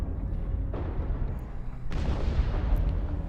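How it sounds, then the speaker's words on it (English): Weapons fire from battling mechs in MechWarrior Online, heard as deep, rumbling booms and blasts that hit twice in quick succession over a constant low engine drone, loud and close with no talking. "they're shooting me."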